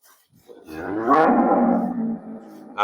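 A dairy cow on a farm gives one loud, close, drawn-out moo that rises and then trails off, with a brief noisy burst at the end.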